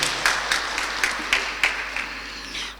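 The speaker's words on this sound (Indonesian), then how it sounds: "berikan tepuk tangan yang meriah atas prestasi ini" An audience applauds at an award ceremony for a regional government prize, a sustained wash of clapping with periodic louder peaks, fairly close and steady before tapering off.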